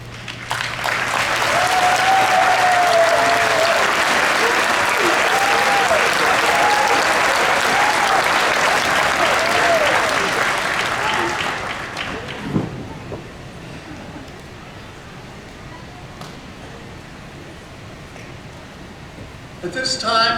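Loud, dense applause from a crowd at a university graduation commencement in Chicago, honoring graduate students, roaring steadily for about twelve seconds before fading to a quiet hall with faint murmurs and a few scattered claps at the end.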